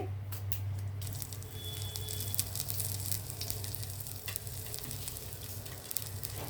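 Whole spices hit hot cooking oil in a pan, giving a steady, close hiss of frying with scattered small crackles and pops throughout.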